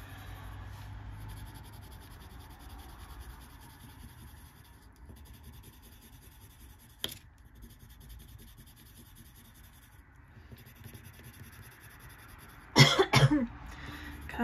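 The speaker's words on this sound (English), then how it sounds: "Can't stop coughing." A short burst of coughing near the end, preceded by a faint single cough, over quiet background rustling.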